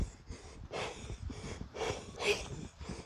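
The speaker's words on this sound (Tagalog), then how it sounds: "Hingal po guys." A person pants heavily after climbing stairs near a barbecue area, with several loud, rhythmic breaths close to the microphone, rising and falling with no words spoken.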